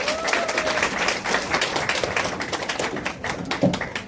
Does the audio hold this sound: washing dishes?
no